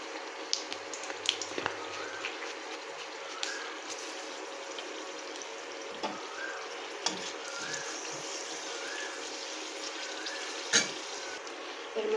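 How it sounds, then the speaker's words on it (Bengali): Nigella seeds and two dried red chillies fry in hot oil for a tempering, giving a continuous bright sizzle with scattered pops and occasional utensil taps against the pan, close and steady. "ফোড়নের জন্য দিয়ে নিচ্ছি কালো জিরে আর দুটো শুকনো লঙ্কা। এটাকে একটু লাল করে নেব।"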